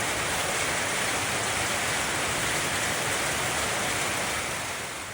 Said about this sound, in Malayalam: പുറത്ത് നന്നായിട്ട് മഴ പെയ്യുന്നുണ്ട്